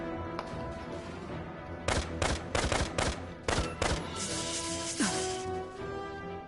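A gunfire volley from soldiers' rifles in the Valkyria Revolution video game: a dense burst of loud, rapid shots in clustered bursts over several seconds, with battlefield noise and a rising tone sounding around them.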